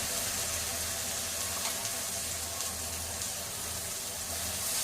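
Ground tomato and curry leaf paste poured into a hot pan of drumsticks, giving a steady, dense sizzle that barely changes throughout.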